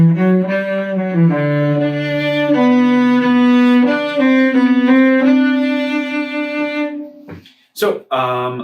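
A cello plays a passage from Bréval's Sonata in C, sustained bowed notes in a clear melodic line, loud and close, followed by a brief spoken remark at the end.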